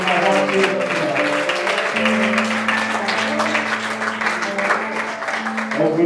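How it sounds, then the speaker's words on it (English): A church congregation claps for a preacher coming to the floor, with hand claps running under sustained organ or keyboard chords and tones, loud and continuous. "let's give Brother Hilton a good hand clap tonight as he comes to the floor"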